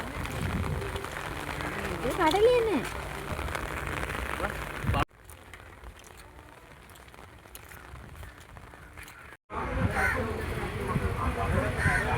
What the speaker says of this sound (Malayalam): നല്ല മഴയുണ്ട് ഇപ്പോൾ